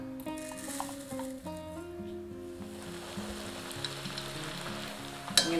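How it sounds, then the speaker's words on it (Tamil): White poha flakes frying in hot oil, a steady close sizzle and crackle running throughout with a brief louder clatter near the end. "பாதி பாதியா போட்டு நம்ம பொரிச்சு எடுத்துக்கலாம்"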